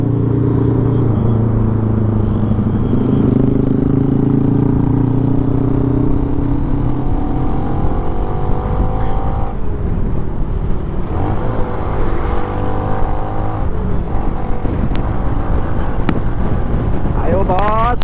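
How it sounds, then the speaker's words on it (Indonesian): A loud, deep roaring vehicle engine rumbles continuously at a roadside checkpoint near Prambanan in Central Java, buffeted by heavy wind noise, with a few rising revs toward the end. "Wah suaranya bos menggelegar. Ini motor apa? Mobil apa ini ya?"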